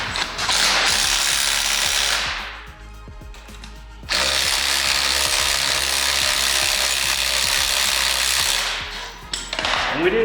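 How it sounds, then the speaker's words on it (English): A ratchet wrench loosens a bolt on a C8 Corvette, a loud, close, rapid clicking pawl sound that runs steadily, softens briefly in the middle, then resumes at full strength. "Loosen the bolt up top."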